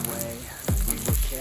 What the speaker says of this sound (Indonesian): membuat telur dadar super tebal itu minyaknya jangan terlalu banyak ya